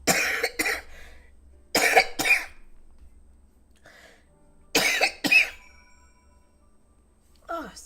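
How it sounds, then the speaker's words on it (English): Someone with a cold coughs in several sharp, harsh bursts, mostly in pairs, close to the microphone, with quiet gaps between the fits and a brief throat-clearing sound at the end. "Lots of coughing."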